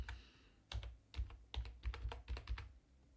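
Typing on a computer keyboard while writing a text label about warm lighting: a quick run of sharp, close key clicks in short uneven bursts, with no talk over them.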